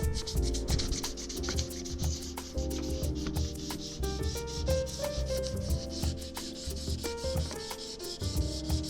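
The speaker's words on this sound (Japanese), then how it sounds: "今日もね、レコード盤磨いていきます。" A vinyl record being polished by hand, with a steady close rubbing and scratching sound that runs continuously under background music.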